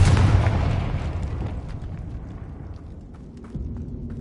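Explosion from the Confringo fire spell in Hogwarts Legacy, a loud deep boom that fades away over several seconds into a low rumble, with a small thud near the end.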